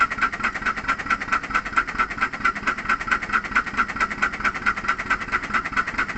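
The live steam locomotive Dorothy runs in place with a fast, regular chuffing beat and a steady hiss of steam, close and continuous with no talk over it.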